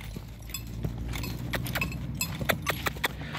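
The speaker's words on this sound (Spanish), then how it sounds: "Ahora le voy a pedir a mi caballo que baje un ritmo" Horse hooves thud and clop in a steady working rhythm on a lunge line, with faint clinks of tack, moderately close and fairly soft.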